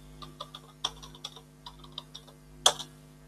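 Fingers tap out a password on a computer keyboard, a sparse run of light, close clicks with one sharper press near the end, over a faint steady hum.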